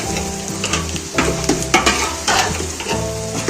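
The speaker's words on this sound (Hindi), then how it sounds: "इसको मैंने ऑयल में अच्छे से मिक्स कर देंगे भिंडी को।" Okra and onions sizzling in hot oil in a pan while being stirred, with scraping utensil strokes over a continuous loud fry.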